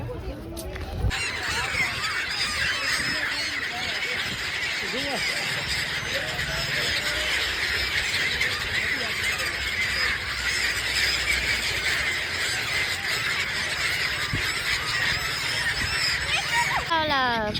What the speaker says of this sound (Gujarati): અત્યારે હું ને હેમાંશિકા આવી ગયા છીએ ઓલા કોને હા પંખીડાઓને ગાંઠિયા ખવડાવવા.